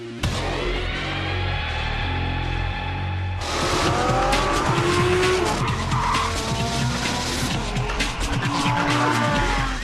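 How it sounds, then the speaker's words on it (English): A Lamborghini Huracan LP580-2, the rear-wheel-drive model, is driven flat out on a racetrack in Taiwan, with a loud, continuous engine roar and screeching tires. The sound grows louder and more intense partway through and is heard close up, with no talking. "When you're in a Lambo on a racetrack and they tell you to go flat out, you go flat out."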